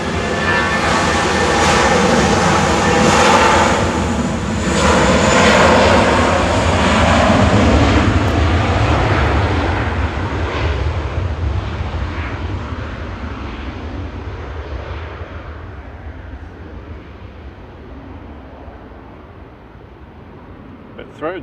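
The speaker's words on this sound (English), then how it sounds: "Lufthansa to Frankfurt with flight 943. This is DAISW, an A320 Classic." Lufthansa Airbus A320 Classic jet airliner, registration D-AISW, on flight 943 to Frankfurt at Manchester Airport, its loud engine roar strongest early then slowly fading into the distance, with people talking over it.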